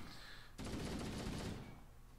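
Gunfire rattles in Halo: Combat Evolved, a dense burst of rapid shots lasting about a second that stops abruptly, heard quietly amid game ambience.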